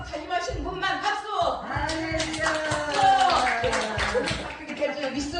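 Clapping from a church congregation at an anniversary worship service, sharp hand claps under voices raised in exclamation, fairly close and rhythmic.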